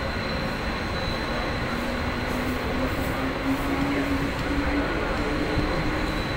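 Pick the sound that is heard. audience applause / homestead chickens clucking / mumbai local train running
mumbai local train running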